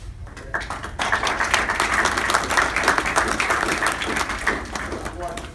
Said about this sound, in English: So you all need to give yourself a big round of applause.